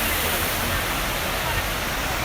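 A waterfall in Nepal roars as dense, continuous broadband rushing water, loud and close, with no other sound standing out above it.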